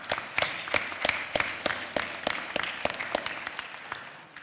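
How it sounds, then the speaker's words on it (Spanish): An audience applauds at a university anniversary ceremony for an engineering school in the Altiplano. Scattered, sharp claps ring out in an uneven rhythm, moderately close, and fade toward the end. "Fuertes aplausos, por favor."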